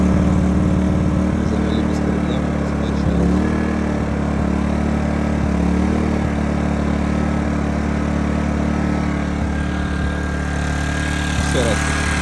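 A Scheppach SG2500i 2 kW inverter generator with a four-stroke engine runs loud and steady close by, its constant engine hum and drone going on under occasional talk.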